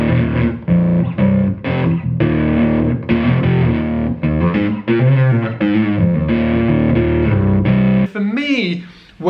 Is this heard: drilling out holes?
no